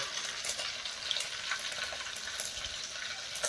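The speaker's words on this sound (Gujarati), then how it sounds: "દાળ વઘારે" Dal sizzles as it is tempered in a pot in a home kitchen, a continuous hissing, crackling fry that stays steady and fairly close throughout.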